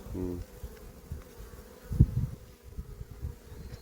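Dense buzzing of many honeybees crowding a hive frame, a steady close drone with a few louder passes near the middle.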